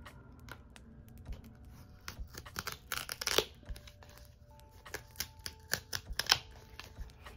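Tape is handled and torn while opening mail, with close, irregular crinkling, sticky peeling and tearing sounds in quick bursts that grow busier midway.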